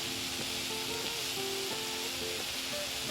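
Cumin seeds sizzle in hot oil for homemade atta keema noodles, a steady, even hiss heard under background music.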